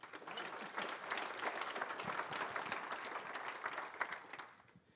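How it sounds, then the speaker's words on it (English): An audience at the ninth annual startup program event breaks into sustained applause, a dense wash of clapping that holds for several seconds before tapering off at the end. "Please, round of applause."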